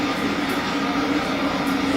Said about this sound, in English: I thought both locos would be opened up here and ready to tackle the bank to St Austell